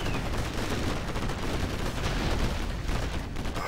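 Dense, continuous gunfire and explosions roar from a China versus Marakar real-time strategy match, a loud, unbroken clatter of rapid shots and blasts with no pauses.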